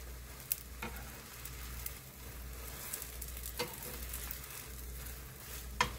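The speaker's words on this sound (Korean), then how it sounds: "계란물을 부어줍니다. 살살 돌려가면서 말아주세요." Beaten egg with zucchini fries in an oiled pan in a soft, continuous sizzle. Occasional light taps and scrapes come as the omelette is rolled, with no talking.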